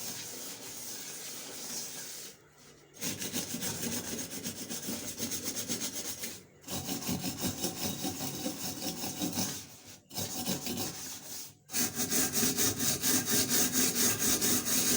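Steady scrubbing of a cooking surface, a dense continuous rasping, rubbing texture with brief pauses between strokes, close and fairly loud, no voices.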